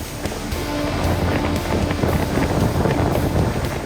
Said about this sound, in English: Waves are coming in every direction.